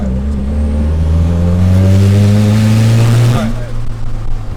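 A car engine revving hard during a dyno pull, a loud close roar climbing steadily in pitch for about three seconds before cutting off abruptly and dropping to a lower rumble.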